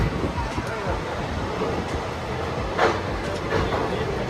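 A train sits in the station about to depart from Bengaluru for Mysuru, giving a steady low rumble with a few faint clanks, while a voice talks over it.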